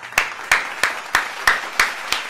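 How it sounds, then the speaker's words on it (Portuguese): A run of seven slow, evenly spaced hand claps rings out close and crisp, with quiet between each one. "Uma salva de palmas!"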